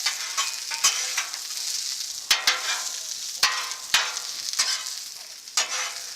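Brisket stir fry with peas and cabbage sizzling on a Blackstone griddle, a continuous bright hiss broken by sharp scraping clacks of a spatula being stirred through the food, close and loud with no voices.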